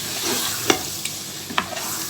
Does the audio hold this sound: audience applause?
no